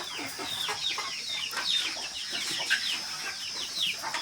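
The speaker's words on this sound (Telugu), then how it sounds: "దగ్గర రెండు వందల వరకు కోళ్ళు ఉన్నాయి" Native country chickens in a backyard coop of around two hundred birds cluck and chatter continuously, many overlapping calls at close range with no talk.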